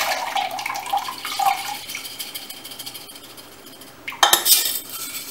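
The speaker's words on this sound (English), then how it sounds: "you pour this water out" Water poured out of a sprouting jar after the seeds have soaked for about 12 hours: a close, splashy trickle that swells into a brief, stronger gush near the end.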